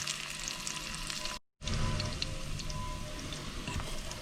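Onions frying in a pan with fresh tomato pasta nearby, giving a steady, close crackling sizzle that drops out briefly for a moment of silence and then resumes at the same level, with no talking.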